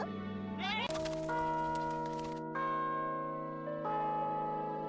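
A bell in the anime GATE rings out in several sustained, resonant strikes, each tone ringing on and overlapping the next, loud and clear with no talk over it.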